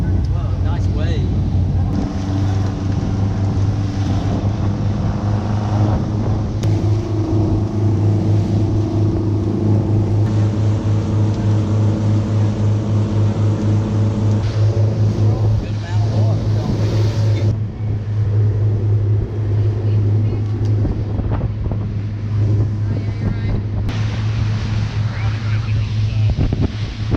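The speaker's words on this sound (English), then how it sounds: "I'm on a fishing boat" A fishing boat engine drones steadily on the open sea off the Carolina coast, under constant wind buffeting and water rush, with people talking intermittently over the noise.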